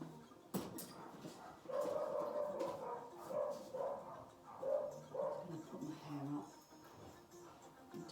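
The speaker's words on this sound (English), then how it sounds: "I do not know what's got into my dogs today down there. Oh, they're all having a bark up." Several dogs bark repeatedly in a burst of overlapping barks and yips from somewhere below, with someone speaking over them during an indoor Pilates session.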